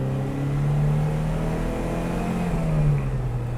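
A modified 1970 Alfa Romeo Giulia 1300TI sedan engine revving steadily while driving, holding a strong, smooth drone around the mid-rev range that swells slightly and stays close and loud throughout.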